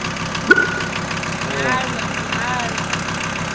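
A Volkswagen T4 Caravelle van engine, recently overhauled, idles with a steady, even low hum, and someone talks briefly over it.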